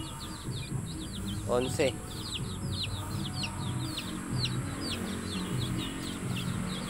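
Rhode Island Red chicks peep in a steady run of high chirps over a low, busy background of hen clucking and farmyard noise, with a brief voice of people talking partway through.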